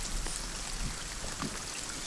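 Steady rain falls outdoors as a continuous, even hiss of drops on surfaces, moderately quiet and unbroken, with no voices.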